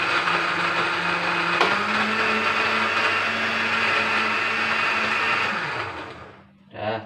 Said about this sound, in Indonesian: Ini kita blender.